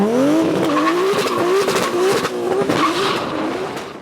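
A Nissan Skyline R32 GTR spinning its tires in a burnout, loud and close, with a wavering high tire squeal riding over the engine's roar.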